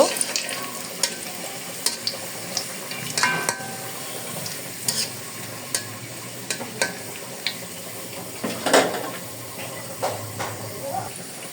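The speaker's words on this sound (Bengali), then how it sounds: "শাকটা এখন আমি বাগার দিয়ে দিব এখন আমি দিয়ে দিয়েছি এখানে শুকনো মরিচ এবং রসুন কুচি" Dried chili and chopped garlic fry in hot oil for a tempering, a steady crackling sizzle close by, with regular clicks and scrapes of a spoon stirring through it.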